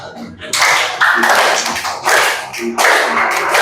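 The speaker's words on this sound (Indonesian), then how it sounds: "Oke, tepuk tangan lebih ramai." A school class of seventh-graders in a coding and artificial intelligence lesson claps hands in loud, dense bursts that stop and restart, with short gaps between rounds.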